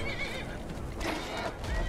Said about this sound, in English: My horse is invincible.